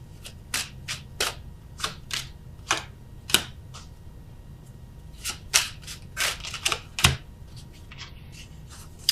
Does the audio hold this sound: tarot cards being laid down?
yes